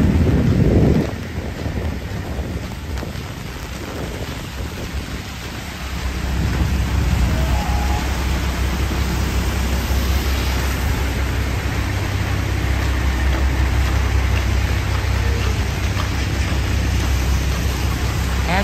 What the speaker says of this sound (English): Now it seems like it's a bit settled, but still a lot of rain.